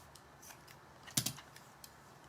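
Scissors cutting craft paper for a St. Patrick's Day door hanger give a quick pair of close snips near the middle, with faint scattered paper handling around them in a quiet room.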